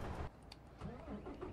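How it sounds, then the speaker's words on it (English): A truck engine cranks and catches in American Truck Simulator, a short starter whirr followed by a low rumbling idle, close and brief. "Helps if we start the engine."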